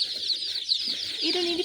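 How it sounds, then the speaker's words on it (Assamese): A crowd of local chicks peeps in a constant high, shrill chorus while they are counted out for an order, with a lower cheep standing out near the end. "এতিয়া লোকেল পোৱালি হিচাপ মাৰি থকা হৈছে"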